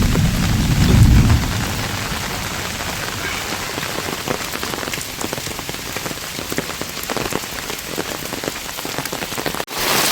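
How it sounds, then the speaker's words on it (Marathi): Heavy monsoon rain falls steadily over a village hamlet, a loud continuous patter with a low rumble of thunder near the start. "मंडळी पाऊस वाढला आहे का?"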